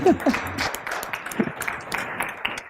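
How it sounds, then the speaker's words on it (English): Audience at a motivational self-development talk breaking into a light, scattered round of applause, fairly soft and thin, with a few voices mixed in near the start. "give me a round of applause"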